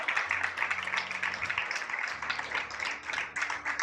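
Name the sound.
congregation applause in church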